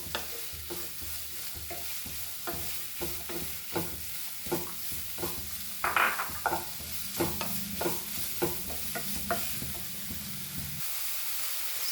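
Onions fry in a pan for Goan pork sausage, stirred in quick repeated scrapes and clacks over a constant sizzle, close and fairly busy before the stirring stops.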